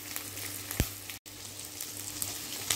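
Shallots and chopped curry leaves sauté in a pan for paruppu urundai kuzhambu, with a soft, steady sizzle, one brief utensil knock and a momentary gap in the sound.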